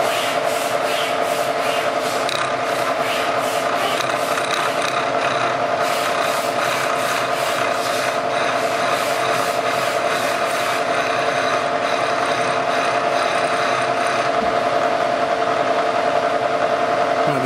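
A milling machine with a keyway cutter grinds a groove into a connecting rod tang, giving a continuous, close metallic rubbing whine with a steady hum and a pulsing rhythm of cutting passes.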